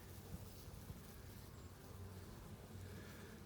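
A full box of bees in an opened hive during a spring beekeeping inspection, giving off a faint, continuous buzzing hum with no talking.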